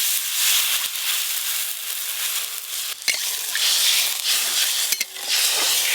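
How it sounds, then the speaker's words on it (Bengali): Sour raw mango broth with turmeric powder and water bubbles and sizzles in a pan, a steady close hiss broken by a few sharp clicks of a spoon stirring. "এবার জল দিয়ে একটু ভালো করে ফুটিয়ে নেব।"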